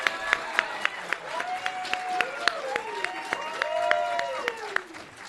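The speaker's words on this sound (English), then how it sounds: "Let's have a round of applause for Matthew." Audience applause at a law school moot court competition finals, a thin scattered patter of claps with a few sharper individual claps spaced through it, under overlapping voices.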